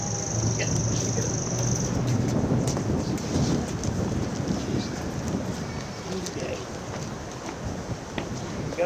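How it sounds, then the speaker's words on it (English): Strong wind buffets an outdoor Memorial Day ceremony in Great Barrington, a loud, steady roaring rumble that stays close and continuous, with brief lighter rustles over the top. "We've got enough wind here to blow away the stand."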